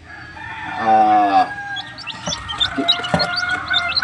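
A gamefowl broodstag rooster crows once, loud and close, followed by softer clucks and chirps from other birds in the background of a game farm yard.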